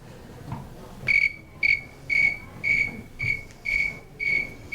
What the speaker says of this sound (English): This is something called a snowy tree cricket.